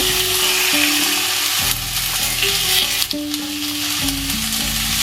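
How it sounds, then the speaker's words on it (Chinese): Pork belly stir-frying in a little oil in a wok, a loud, steady sizzle with scraping stirs, close up and continuous with no talking. "煸肉，这肉要煸一会儿，肉中有水分"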